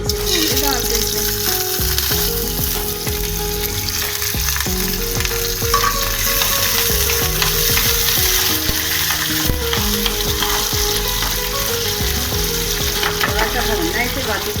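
Chana dal roasting in desi ghee in a pan, with a steady, dense sizzle and frying crackle running throughout and occasional stirring scrapes, close and loud.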